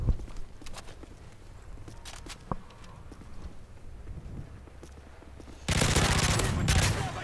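Gunfire and combat noise from Modern Warfare 3 Spec Ops Resistance, a dense burst of shots and clatter that swells loud toward the end, with no talk over it.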